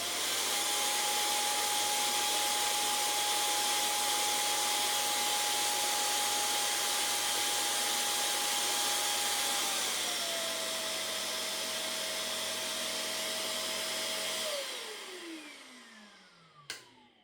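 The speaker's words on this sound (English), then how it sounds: "It will also automatically empty the vacuum when we place it in the charging dock as well." A Shark CleanSense IQ+ stick vacuum auto-empties in its charging dock with a loud, steady motor roar and whine. The tone drops partway through, then winds down to near silence near the end.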